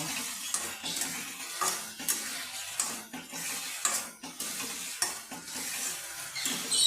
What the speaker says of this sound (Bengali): আমি একটা টমেটোর কেটে দিয়ে দিলাম আরও এক মিনিট আমি ভালো করে কষিয়ে নেব